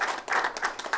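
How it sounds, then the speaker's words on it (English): Applause from an audience at a public announcement in Buffalo, a dense patter of many hands clapping, close and fairly loud, swelling and falling over a brief moment. "Please, a round of applause for Catherine."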